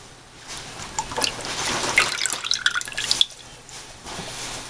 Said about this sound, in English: Then we add 1 cup of whipping cream.